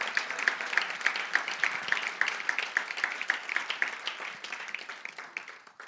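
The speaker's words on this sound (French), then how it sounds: "Come on, give a clap." A church congregation claps together through a charismatic sermon, steady rhythmic hand clapping with sharp regular beats, moderately loud and gradually thinning toward the end.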